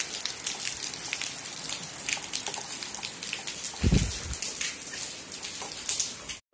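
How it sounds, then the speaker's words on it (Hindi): Heavy rain falls outdoors in a village, a dense steady hiss of drops striking surfaces with a few louder splashes, close and continuous, no talk. "देखो कितनी तेज बारिश हो रही है"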